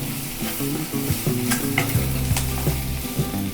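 A spoon scrapes and stirs through sprouted moth bean usal frying in a pan with a spoonful of coriander powder, rhythmic scraping clicks over a constant close sizzle.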